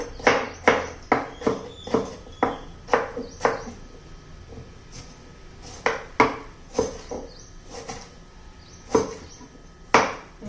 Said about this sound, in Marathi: आता आपण एक टोमॅटो घेतलेला आहे, तो चिरून घेऊया.